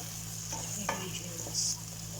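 Garlic and tomato sauté in a pan, a soft steady sizzle broken by a few scraping stirs, alone with no voices.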